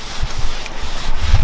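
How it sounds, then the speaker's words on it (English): A rag wiping away spilled engine oil under the hood of a Subaru BRZ/Toyota 86-type car during an oil change, heard as close, steady scrubbing and rubbing strokes with a few louder swipes near the end. "Then you wipe off any excess that may have spilled."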